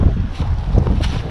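Strong outdoor wind buffets the microphone, a loud continuous roaring rumble with gusty swells throughout, no speech over it.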